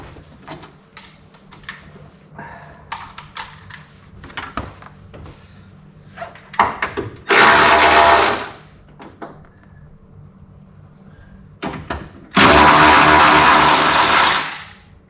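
A small power tool buzzes out the door hinge bolts on a Mini Cooper in two loud bursts of two to three seconds each. Between them come scattered metallic clicks and clatter from the workshop.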